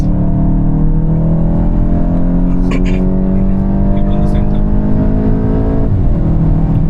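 A Volkswagen Golf GTI accelerates hard on a top speed run, its engine heard from inside the cabin as a loud, constant drone that climbs slowly in pitch.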